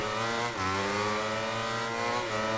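A Yamaha racing motorcycle engine in the MotoGP 19 game screams at high revs, dipping briefly on a downshift and then climbing again, loud and continuous with no talking.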